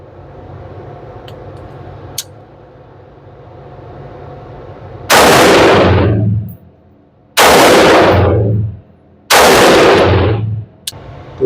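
A Geissele Super Duty AR15 in 5.56 fires three loud, sharp rifle shots at an outdoor range, spaced about two seconds apart, each blast ringing out and decaying over a quiet background.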